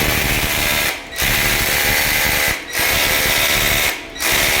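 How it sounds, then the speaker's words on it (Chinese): A power drill bores mounting holes for the motor of an electric twin-pole clothes-drying rack, a loud steady whine broken by three brief pauses, close up with no voices. "所以我们现在是把它钻孔"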